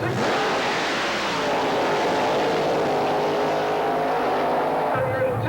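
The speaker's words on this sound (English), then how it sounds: "a 67 Camaro, all steel body, powered by a 427 Chevrolet" 1967 Camaro drag car with a 427 Chevrolet engine launching at a drag strip: a loud, continuous roar of the engine, with speech mixed in throughout.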